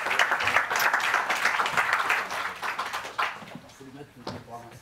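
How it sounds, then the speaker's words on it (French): Audience applause for Patrick Roult at a talk on elite athletes' life projects, a steady broadband patter of many hands for about three seconds, then thinning out as voices begin speaking. "Et donc, on peut applaudir"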